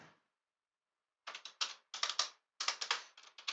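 Typing on a computer keyboard, close and crisp, in quick bursts of key taps after a short pause, with no other sound around them.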